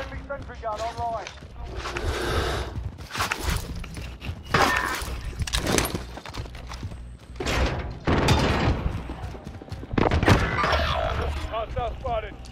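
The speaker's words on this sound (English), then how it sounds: "Perfect sentry gun online." Sentry gun firing in a first-person shooter video game, heard as loud broadband bursts and impacts scattered through a chaotic firefight, with voices talking at times over the action.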